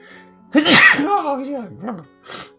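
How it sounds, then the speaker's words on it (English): A loud, drawn-out sneeze with a voiced, wavering tail that fades, followed moments later by a short breathy exhale, all close to the listener. "Quite the spectacular sneeze there."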